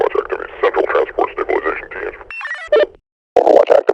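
A Combine soldier voice effect built from six FL Studio plugins turns speech into a clipped, band-limited radio transmission with squelch-like bursts, a brief silent gap, then more filtered talking.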